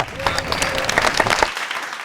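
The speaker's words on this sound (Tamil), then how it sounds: "கைத்தட்டலாமா?" Audience applause on a Tamil comedy talk show, a dense burst of clapping with some crowd noise and a voice over it, loud and close, then cutting off abruptly near the end.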